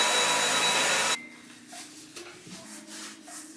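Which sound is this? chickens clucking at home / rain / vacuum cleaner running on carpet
vacuum cleaner running on carpet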